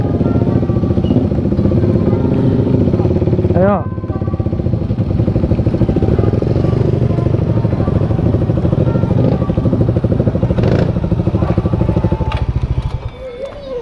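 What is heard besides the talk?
Honda Beat motorcycle riding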